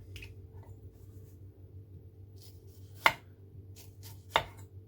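Two sharp knife strikes through an onion on a cutting board, spaced about a second apart over a low steady background hum, with no talking.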